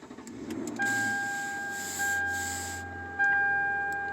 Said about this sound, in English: Right here on the engine stop, put your foot on the brake.